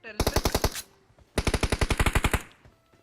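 Two bursts of rapid automatic gunfire from PUBG Mobile ring out close and loud, each a quick rattling string of shots separated by a brief pause.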